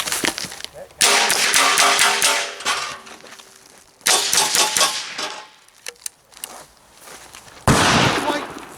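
Rapid gunfire from an AR-22 rifle on a timed shooting course: three loud clusters of quick, sharp cracks, each a dense volley of shots followed by a brief lull, with faint sounds between the bursts.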